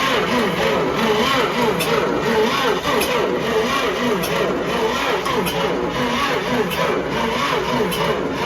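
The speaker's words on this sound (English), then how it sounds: "We need some fire in that motor." A historic 1950s Jeep engine that sat for decades cranks and fires on gasoline, a loud steady mechanical churn with sharp periodic ticks, close up throughout with no pauses.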